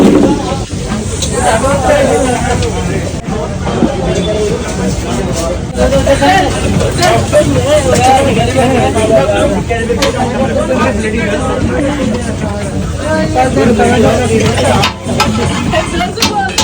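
Dense crowd hubbub at a midnight Narkasur festival in Goa, a steady wall of overlapping voices and street noise that stays loud and unbroken throughout.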